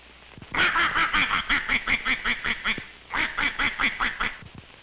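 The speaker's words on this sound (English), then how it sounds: "Yes, these ducks really take to water." A run of loud, rhythmic duck quacks close by, a rapid series of calls, a short pause, then another burst of quacking.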